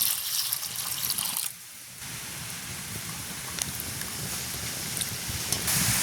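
Water runs and splashes steadily while vegetables are washed by hand in a village kitchen, a close trickling and pattering with a brief dip partway through, with no talk.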